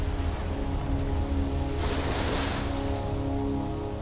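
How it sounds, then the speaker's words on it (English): Ocean waves surging at high tide on a Fiji coast, a steady broad wash of surf with one swell rising in the middle, heard alone without voices. "islanders can only watch as high tide threatens to engulf their homes"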